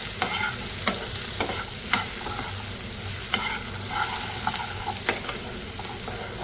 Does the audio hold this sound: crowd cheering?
no